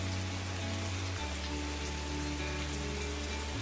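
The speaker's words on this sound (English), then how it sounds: "Feels pretty good to be watching this rainstorm from inside my house" Steady rain from a rainstorm falls outside a house, an even wash of pattering noise heard from indoors, unbroken across the whole stretch, with a low hum underneath.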